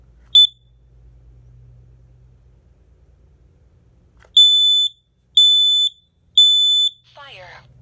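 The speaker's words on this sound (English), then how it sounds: "I am now going to test the alarm." A Kidde ionization combination smoke and carbon monoxide alarm sounds during a test: one short chirp, then three loud, evenly spaced piercing beeps, close to the microphone, with faint handling noise between.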